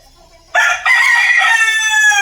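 A rooster crows loudly and close by, one long drawn-out call after a brief quiet start.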